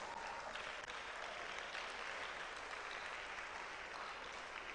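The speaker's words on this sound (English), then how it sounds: "A round of applause for all speakers." Audience applause for the speakers at a national high school public speaking competition grand finale in Ghana, a dense, even roar of clapping heard from a distance, steady and unbroken with no voices over it.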